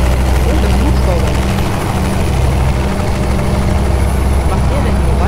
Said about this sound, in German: Und das Hubschrauber.